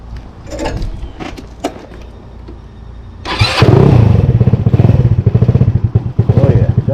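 Modified GY6 150 scooter engine with a mid-range cam: a few seconds of clattering and cranking, then it fires and settles into a loud, lumpy, choppy idle close by.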